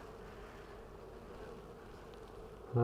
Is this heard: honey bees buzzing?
yes